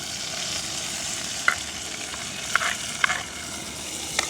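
Shallots, green chillies and four garlic cloves sizzle in a pan, a constant close crackle broken by a few sharp pops and small clinks as they are stirred.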